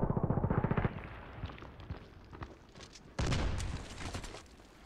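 Gunfire in an online shooter game, a quick rhythmic burst of rapid shots at the start followed by scattered single cracks and a louder flurry of impacts later, near and punchy.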